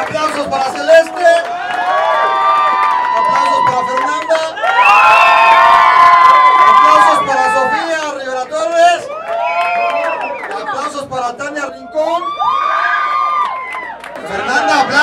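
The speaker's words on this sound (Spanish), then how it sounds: "Aplausos para Carolina! ¡Aplausos para Celeste" A crowd at a birthday party awards ceremony cheers and shouts loudly, with excited children's voices rising in waves of squeals and yells over busy chatter.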